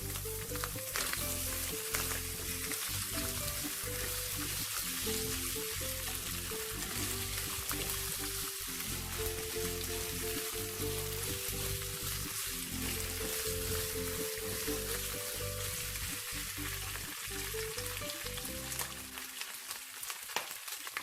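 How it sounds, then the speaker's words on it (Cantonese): Minced ginger and garlic fry with pork in a pot for a kimchi tofu hot pot, giving a loud, steady sizzle with occasional stirring scrapes, close and continuous until it drops off near the end; nobody speaks. "落薑蓉、"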